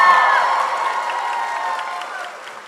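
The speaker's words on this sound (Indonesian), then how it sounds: "Dan sebagai di sini ada mahasiswa boleh tepuk tangannya." University students in a café audience cheering and applauding at a comedy show, a dense crowd roar with whoops that swells at the start and slowly fades over a few seconds.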